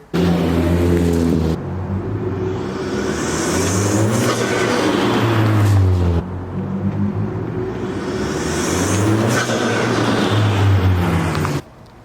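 A car fitted with a PRL intake and K&N filter revs hard in two repeated pulls, each a loud, rising engine roar climbing through the gears before cutting off.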